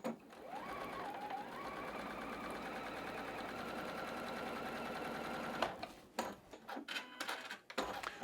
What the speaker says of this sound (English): I'm just going to use the little cutter on my sewing machine to sever those threads